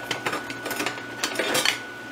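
Metal lid set over a cooking pot, producing a string of light clinks and scrapes of metal on metal, close and fairly clear, with no talking.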